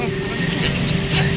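A car's engine rumbles loud and close in a short, steady burst, with voices talking over it.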